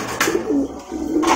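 Pigeons on a pigeon farm coo nearby, with two low, throaty coos close to the listener and little other sound.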